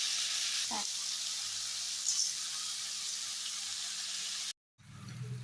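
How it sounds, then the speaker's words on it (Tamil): Three medium tomatoes with a little rock salt frying in a pan for chicken curry give a faint, steady sizzle and hiss that breaks off briefly near the end. "இப்போது தக்காளி நல்லா வதங்கிடுச்சு"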